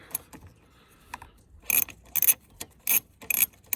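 An 8mm wrench loosens the negative battery terminal on a 2006 Ford F250 with a 6.0L diesel: close, sharp metallic clicks and short ratcheting bursts, quiet at first, then louder in rapid clusters, with no talking.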